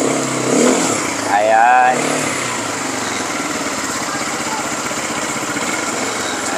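A JS-200CC ATV runs while reversing, its engine a steady, even idle hum throughout, with someone talking briefly over it near the start.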